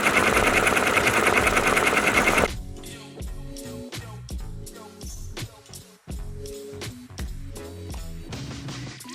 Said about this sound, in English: having my 3 embroidery machines working in one shot.